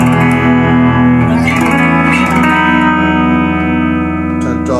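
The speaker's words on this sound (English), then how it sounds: "Definitely starts to pick up a little bit in the distortion." Sustained chords on a Squier Affinity Series Telecaster electric guitar through a distorted amp, loud and thick with ringing overtones and a bit of reverb, notes changing slowly.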